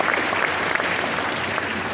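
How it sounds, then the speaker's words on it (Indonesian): A congress hall crowd claps in steady, dense applause, even and sustained at a moderate distance. "Kita beri tepuk tangan kawan-kawan sekalian."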